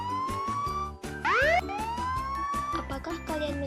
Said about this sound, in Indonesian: Apakah kalian mendengar perubahan frekuensi pada sirine mobil?